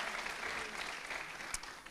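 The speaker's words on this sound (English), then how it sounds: "And he's applauding because I didn't get vegan food." Brief applause from a single audience member at a talk, a soft patter of clapping heard from a distance in a room, with one sharper clap near the end.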